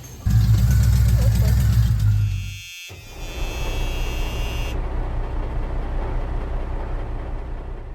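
A 1972 Oldsmobile Cutlass V8 idling unevenly in a garage, loud and rough at first, then dropping to a steadier, quieter rumble that continues without speech.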